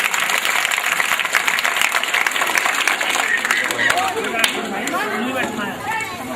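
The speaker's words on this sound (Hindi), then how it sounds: "तो मैं चाहूंगा कि इस बच्ची के लिए तालियां आप एक बार और जोर से बजा दीजिएगा" An audience at a girls' school sports day claps loudly for a schoolgirl, the dense applause gradually thinning into scattered claps as a voice begins talking near the end.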